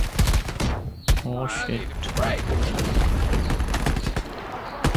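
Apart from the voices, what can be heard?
gunfire in the video game Shatterline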